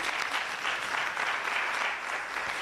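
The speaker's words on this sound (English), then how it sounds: "Can we give them a round of applause?" Audience at a women's economic forum in Kenya applauds the day's speakers, steady full-room clapping that runs throughout without a break.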